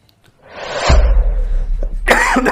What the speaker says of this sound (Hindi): बहुत ज़्यादा खांसी आ रही है।